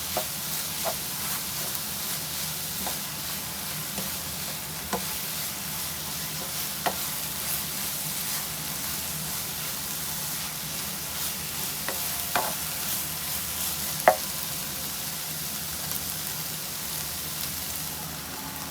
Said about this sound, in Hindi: चिकन डाल देंगे, उसको भी 1 मिनट तक बस इसको मिक्स करते हैं।